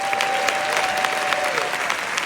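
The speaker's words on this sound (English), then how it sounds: "would you also give our candidates a round of applause?" A crowd at a New Jersey social justice forum applauds the candidates, dense, even clapping filling the whole short stretch with no pause.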